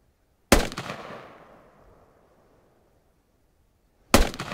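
Two single rifle shots fired at long range in the video game Squad, each a sharp loud crack followed by a long rolling echo that fades over about two seconds, with a gap of roughly three and a half seconds between them.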